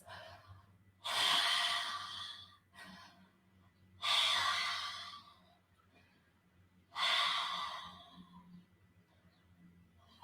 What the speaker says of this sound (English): Take 3 of those deep Darth Vader breaths